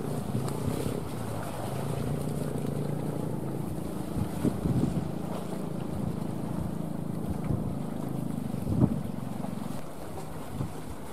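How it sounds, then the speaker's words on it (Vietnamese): A large engine on a Ben Tre trawler fishing boat drones steadily and loudly throughout. Wind noise and water wash surround it, with a few brief knocks. "Chiếc ghe vẫn đang có phồ máy khá là khủng các bạn."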